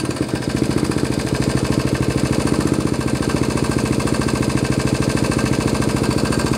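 A small engine, likely a motorcycle with a slightly rich carburetor and a faulty start button, having just fired up and settled into a steady, rapid, loud idle that chugs evenly throughout.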